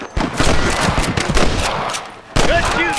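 Loud rapid gunfire in a Red Dead Redemption gunfight with snipers, sustained rattling shots broken by a short lull, then a fresh sharp burst near the end with a faint whistling tone.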